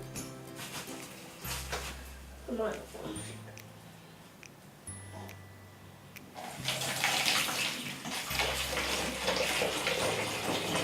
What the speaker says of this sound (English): Isla, hold that and the bottle, and I'm going to pour it in.